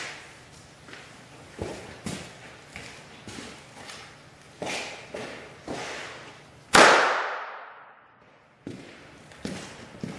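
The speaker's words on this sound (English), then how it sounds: "It is a black powder based bullet with an electric fuse." A black powder bullet with an electric fuse goes off in a single sharp, loud bang with a ringing decay, preceded and followed by a series of quieter knocks and taps.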